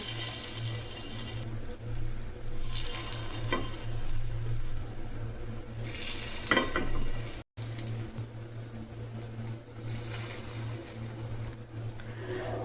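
Appe batter hits a hot, oiled appe pan on a gas stove, giving a soft, steady sizzle with a few brighter bursts over a constant low hum, and no voices.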